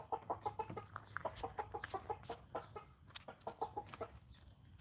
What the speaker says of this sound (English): You're a weird rooster, buddy.